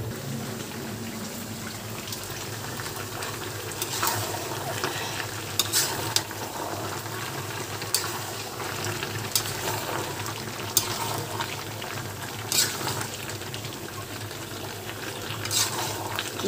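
Beef cooking in a pot with sweet pumpkin in a thin gravy, a steady close bubbling and sizzling bed broken by repeated scraping and clinking of a stirring spoon against the pot, with no talking.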